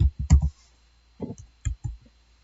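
A few crisp computer mouse clicks selecting a program on screen, heard close in two small clusters separated by a quiet gap, with no voices.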